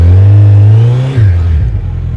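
Suzuki Hayabusa motorcycle engine dragging a disc harrow across a field, a loud, close, steady engine drone that dips and shifts pitch partway through, then settles into a lower, rougher hum.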